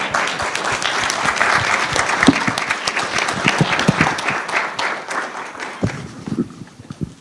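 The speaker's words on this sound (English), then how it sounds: "I'd like to now tell people in the audience you can clap now," A room full of people clapping at a by-election candidates' question and answer event on disability, loud, dense applause that holds steady before thinning out and fading near the end.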